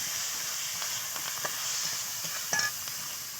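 Chicken curry base of tomato, turmeric, sugar and salt sizzling and frying in a pan, a steady broadband hiss with light stirring scrapes and a few crackles, no voices.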